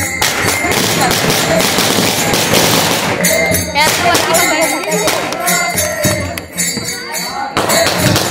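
Rapid strings of firecrackers crackle and pop loudly and continuously at a Ganesh immersion procession, with voices mixed in amid the bursts.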